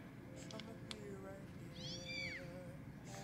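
A Pokémon-themed wireless earbud case chirps a short high-pitched Pikachu cry, close by, with faint room noise and a brief click beforehand.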